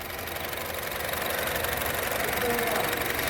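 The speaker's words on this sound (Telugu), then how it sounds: "చాలా స్మూత్గా ఉంది సార్ ఇంజిన్." A 2016 Honda City VX CVT petrol engine idles with a steady, even hum and faint mechanical ticking throughout, at moderate level with no voices.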